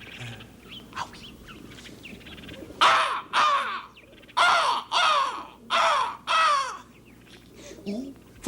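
A voice imitates a crow, giving six loud, harsh caws in a steady rhythm, each about half a second long, with faint background noise between the calls.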